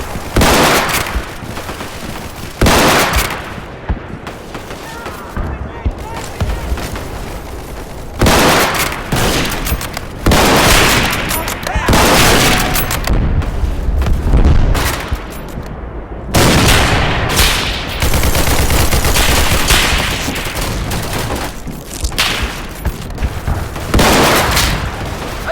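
Heavy battle sounds in the Roblox war game Centaur played on mobile: continuous bursts of gunfire mixed with booming explosions, loud and dense for nearly half a minute with no talking.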